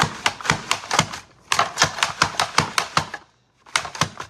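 Fresh cucumber shredded into paper-thin strips on a Pampered Chef Rapid Prep Mandoline at its thinnest setting, giving quick rhythmic clacking strokes in two bursts with a short pause between, close and clear with no talking.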